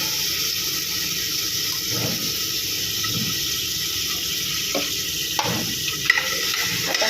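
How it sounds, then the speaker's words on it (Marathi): Onion frying in oil in a pan: a steady, even sizzle and hiss close by, with a few soft stirring scrapes and a small clink near the end, and no voices. "आता हा जो कांदा मी टाकला आहे तो जरासा लालसर व्हायला द्यायचा आहे"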